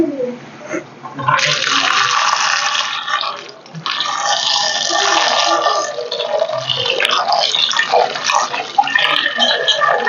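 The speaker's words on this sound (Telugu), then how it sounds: "ముందు ఇవన్నీ శుభ్రంగా కడుక్కోవాలండి." Amaranth stems and vegetables such as tomatoes, green chilies, coriander and garlic washed by hand in water, a continuous close splashing and sloshing that runs for most of the stretch with brief pauses, no talking.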